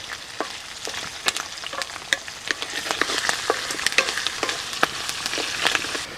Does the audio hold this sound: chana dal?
yes